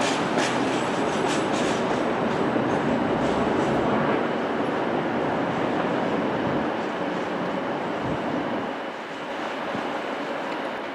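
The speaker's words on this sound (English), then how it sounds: "Here comes another Class 380" Class 380 electric train arriving at Glasgow Central station, a steady rumble with wheel clatter and faint squeal rolling past at close range, easing slightly toward the end.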